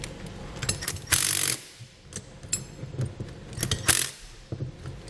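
Ratchet tightening a bolt on a TorkLift StableLoad lower overload spring suspension upgrade, with short bursts of clicking mechanical strokes and metallic rattles, close and moderately loud.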